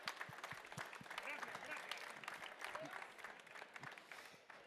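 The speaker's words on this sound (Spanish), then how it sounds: "un aplauso para Tonino" Audience applause at a wine tasting of Aragón garnacha wines, a steady wash of many hands clapping at moderate distance with a few scattered voices underneath.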